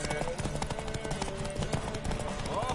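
Horse hooves clip-clop steadily in The Witcher 3, a continuous rhythmic clatter of close, loud hoofbeats mixed with music and other game sounds.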